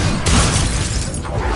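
A Confringo fire spell blasting in Hogwarts Legacy, a loud, dense explosive burst with crackling debris that fills the short moment without any voices.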